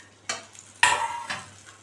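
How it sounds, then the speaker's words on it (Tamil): Brinjal thokku is stirred in a pan: three short scraping strokes with a soft sizzle, close and moderately loud, and no talking. "அதில் ஒரு வாட்டி கிளறி விட்டுக்கலாம்."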